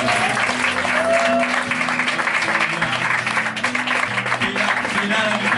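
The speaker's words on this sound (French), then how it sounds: "On les applaudit encore, s'il vous plaît" An audience at an informal music gathering claps continuously, a steady crackle of hands over sustained low tones and murmuring voices.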